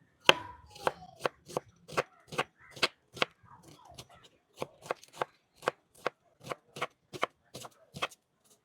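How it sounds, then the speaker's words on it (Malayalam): Onions being chopped with a knife on a cutting board, a steady series of about twenty crisp, close knocks at a regular rhythm, with a brief pause midway. "നമുക്ക് നമ്മുടെ സവാളകളെല്ലാം ഒന്ന് കട്ട് ചെയ്തെടുക്കാം"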